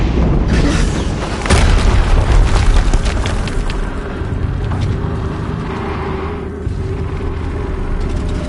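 A loud, deep explosion booms in the video game Horizon Zero Dawn, a heavy blast near the start followed by a sustained rumbling roar and debris noise that gradually settles.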